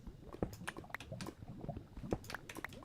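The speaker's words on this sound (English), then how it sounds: "Sounds like the lava is just like right here." Lava bubbling in Minecraft, a quiet scatter of soft pops, gloops and wet blips at an uneven rhythm, faint and close with no talk.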